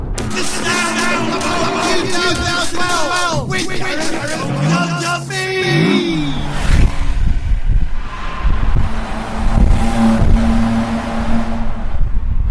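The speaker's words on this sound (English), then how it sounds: "We're just going through a tunnel there" A car drives through a road tunnel, its engine note and tyre roar swelling and echoing in the enclosed space, with wind buffeting and a passing vehicle's rising and falling pitch, loud and close throughout.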